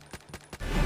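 Gunfire in the Zombie Hunter video game: three quick, quiet shots spaced evenly apart, followed by a louder, rougher burst of noise at the end.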